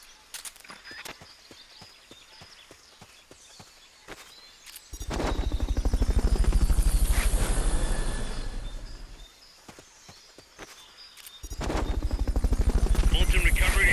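A Fulton recovery helicopter in Metal Gear Solid: Peace Walker sweeps in with a heavy, pulsing rotor roar that swells loud twice over a steady rhythmic chop, with quiet ticking game sounds between the passes.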